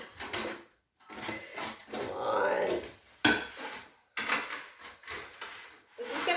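Plate and pan clatter as a ring of potatoes is flipped out of the pan onto a plate, with clinks and knocks close by amid a person's speech.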